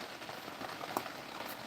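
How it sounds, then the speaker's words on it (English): Steady rain patters on an ice fishing shack out on a frozen lake, a soft, even wash of drops with a few sharper taps, fairly quiet and with no voices. "And the rain is coming down."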